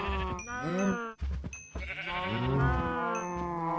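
Cows in the Minecraft modpack Project Ozone let out several drawn-out, warbling moos one after another, loud and close, with no talking over them.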